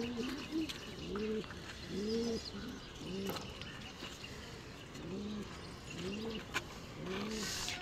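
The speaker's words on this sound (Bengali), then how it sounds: "এইখানে এক জোড়া নাপতা কবুতর, একটা সবুজ গলা কবুতর দেখতেছি" Pigeons kept at home, a pair of Naptha pigeons and a green-necked pigeon, give repeated soft rolling coos in a loose rhythm, close by and moderately quiet, with faint chirps behind.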